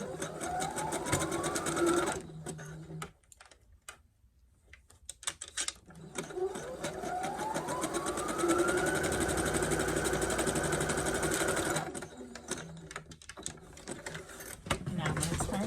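Sewing machine stitching a pocket onto a pair of shorts, a fast whirring mechanical buzz that runs for a couple of seconds, stops briefly, then resumes for a longer stretch, close and steady.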